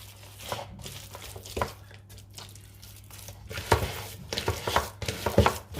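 Minced chicken kabab mixture with flour worked by hand in a bowl: soft, irregular squishing and slapping handling sounds, close up, growing busier and louder toward the end, no talking.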